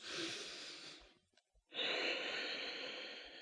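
Slow, deep yoga breaths taken during a seated twist in a vinyasa flow: a long, soft airy exhale, a brief pause, then another drawn-out breath, close and quiet with no talking.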